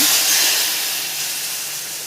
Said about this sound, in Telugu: సాంబార్లో పోపు వేసుకుని